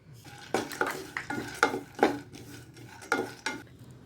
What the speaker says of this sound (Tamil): அதை இப்போ இந்த நெய்யில் போட்டு வறுத்துக்கலாம்